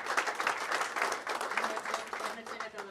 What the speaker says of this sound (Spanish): Un aplauso para Alberto.